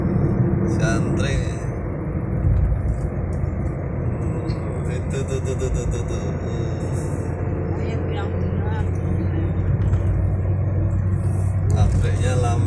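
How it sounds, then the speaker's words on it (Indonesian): A long, slow-moving queue of trucks on the Sragen–Ngawi highway in Central Java, Indonesia, during sugarcane harvest, makes a steady loud engine rumble and road noise throughout, with a person talking over it. "Wow, panjang sekali antrian truk-truk."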